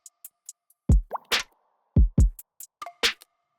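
A sparse electronic drum beat with no fill, made of deep punchy kick hits, crisp snare or clap strikes and light ticking percussion in a steady groove, with no voices over it.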